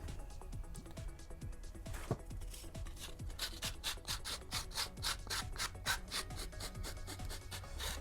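Filing or sanding rounds off the sharp edges of a Boba Fett left vambrace prop, heard as a steady run of close, rhythmic rasping strokes that quicken and brighten toward the end, with no talk.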